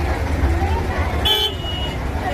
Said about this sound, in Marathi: ट्रॅफिक जाम आहे.